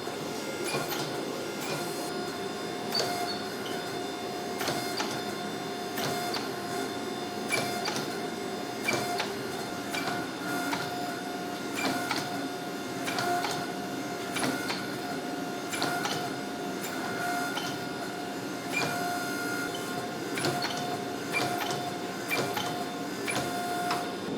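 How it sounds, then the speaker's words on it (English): Forging press slowly squeezing hot mosaic Damascus steel for Bowie knives, giving a continuous mechanical hum broken by irregular clanks and metallic knocks in a workshop, with no talking. "pressing hot steel has to be some of the best ASMR content out there"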